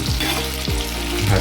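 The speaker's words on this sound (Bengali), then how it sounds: "এটা এইভাবে ভেজে নেব, আমি তুলে নেব, তারপরে আবার একবার ভাজতে হবে।" Baby corn deep-frying in hot oil makes a loud, dense, bubbling sizzle that carries on without a break, heard close up.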